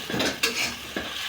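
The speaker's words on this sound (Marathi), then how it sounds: "इथे आता व्हिडिओ असल्यामुळे मी हलवत आहे, मिक्स करत आहे" Sabudana khichdi is stirred in a pan on low heat, a soft steady scraping and shuffling with a gentle sizzle underneath, close and brief, no voices.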